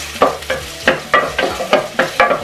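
Onion in hot oil, stirred in quick repeated scrapes, about seven rhythmic strokes over a short span, each with a burst of sizzle, loud and close.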